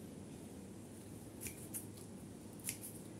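Scissors snip through bougainvillea stems during pruning, giving three or four short, sharp clicks spaced irregularly over a steady low background hiss, fairly close and quiet.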